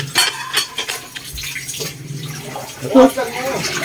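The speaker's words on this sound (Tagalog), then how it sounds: "Hugas lang ng plato" Plates being washed by hand under running water, with the tap's broad splashing wash going throughout, a few clinks of dishes, and someone talking over it.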